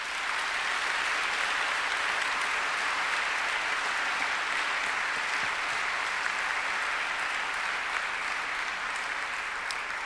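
A graduation ceremony audience at Monash University applauds in a dense, steady roar of clapping that holds evenly for about ten seconds, with no speech over it.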